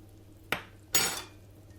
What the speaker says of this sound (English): take a little bit on a spoon, drop it into some water